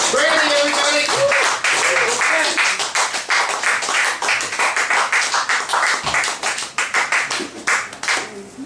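At a Wassermania cabaret show, a crowd claps enthusiastically for a performer, and the loud, dense applause continues throughout. Cheers and shouts rise early on, and it thins into separate claps toward the end.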